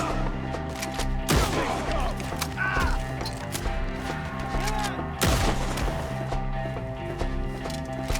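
Gunfire rings out during a shootout in Red Dead Redemption 2, with two loud, sharp shots standing out over a dense, continuous game soundscape.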